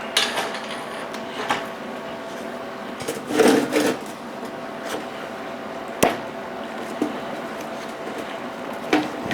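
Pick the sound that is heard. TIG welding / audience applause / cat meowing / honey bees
TIG welding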